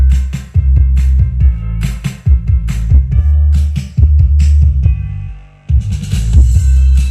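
Loud music with heavy, booming bass dominates throughout, thumping rhythmically with brief dips, played close through a Microlab X2 speaker with no voices.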